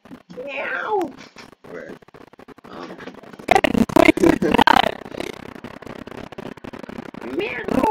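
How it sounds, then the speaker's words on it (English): A house cat meows a couple of times, with a person talking around it and a burst of louder crackling noise in the middle; the cries are close and moderately loud. "my cat is here now"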